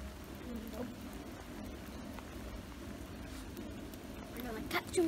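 Steady rain falling outdoors, a soft constant patter with occasional louder drops, faint and distant-sounding throughout, with some quiet background activity near the end.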